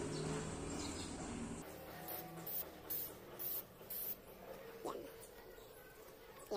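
A spray can coats a car wheel red in bursts of hissing spray, with short pauses as the wheel is turned; someone talks over most of it.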